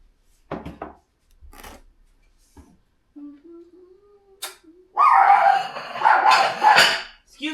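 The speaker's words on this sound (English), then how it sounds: "If you can't tolerate the dog bark," A female pet dog barks indoors in a home kitchen, with a few short, sharp barks at first, then a burst of louder, rapid barking near the end, mixed with a person's voice.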